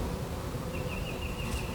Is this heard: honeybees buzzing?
yes